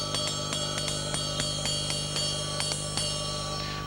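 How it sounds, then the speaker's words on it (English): A drumstick tip strikes the bell of a ride cymbal in a steady run of bright, ringing pings, about a dozen evenly spaced hits over a sustained metallic wash, close and clear with no talking. "The tip also sounds good on the bell."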